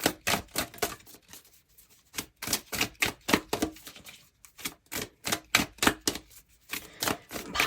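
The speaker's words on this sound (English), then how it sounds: "Let's pull your oracle cards." Oracle cards are pulled and handled at close range, giving a busy run of crisp taps, flicks and snaps in quick irregular bursts with short pauses between them and no talking.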